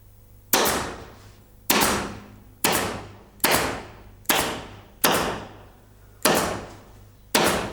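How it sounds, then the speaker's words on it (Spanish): Hammer blows driving nails to fix a freshly tanned goat skin onto a panel for drying, seven loud, evenly spaced single strikes about a second apart, each with a short ringing decay. "Y ahora ya vamos a clavar la piel en el panel para poderla sacar al sol"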